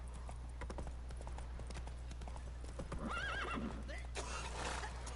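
In The Witcher 3, a horse gallops with fast, rhythmic hoofbeats under a steady low rumble, then gives a loud, close neigh that rises and falls near the end.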